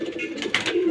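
Teddy Parwazi pigeons held for sale coo in a brief, continuous low burr, close and moderately loud.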